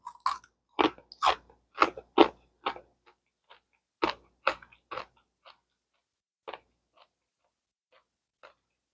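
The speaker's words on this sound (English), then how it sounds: "But I like my bacon crunchy." Someone chewing crunchy homemade dried bacon, close and crisp, with a quick run of loud crunching bites that slow and grow fainter into scattered chews with quiet gaps between.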